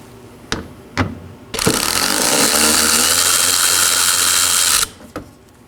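A power tool, likely an impact driver, backs a 10mm screw out from under the corner of a 2014-2019 Nissan Sentra rear bumper. One loud sustained whirring, ratcheting burst runs about three seconds, with a few short clicks and knocks before and after.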